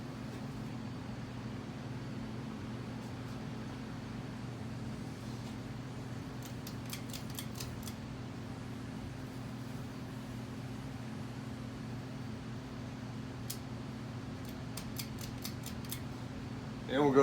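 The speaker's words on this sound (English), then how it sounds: "The fan's probably turning around, I would say around 180 RPM right there" A NuTone Slimline 42-inch ceiling fan turns at about 180 RPM with a 12 to 13 degree blade pitch, giving a low steady hum and faint airy whoosh, with a few light ticking clicks, indoors and unvoiced.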